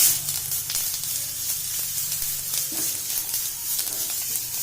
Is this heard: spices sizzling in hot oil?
yes